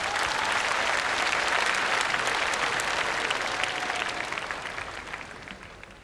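Audience applause at a televised singing-competition final concert, a dense, loud wash of clapping that holds steady and then slowly tapers off.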